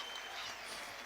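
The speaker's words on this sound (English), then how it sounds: "The standing ovation from the crowd." A football crowd rises in a standing ovation after a 4-4 draw between Peterborough United and Southampton. Steady, dense applause fills the whole moment, a broad even roar of clapping with no single voice standing out.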